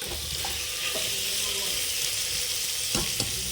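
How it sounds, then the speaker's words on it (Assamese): Food fries in a pan with salt and turmeric added, giving a steady close sizzle with a few light stirring scrapes and clicks, and no talk. "নিমখ, হালধি দিয়াৰ পিছত অকণমান দেৰি আৰু ভাজিব লাগে"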